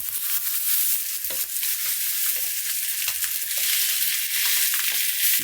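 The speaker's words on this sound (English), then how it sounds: "I'm gonna put this down in the pan and it should give me a nice sizzle." Chicken breast laid into an oiled pan over medium heat, giving a loud, continuous close sizzle and crackle with scattered pops throughout.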